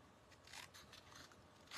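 Small scissors snip through a stamped paper sentiment at a craft table, a few faint, close, crisp cuts ending in a sharper final snip, with no talking.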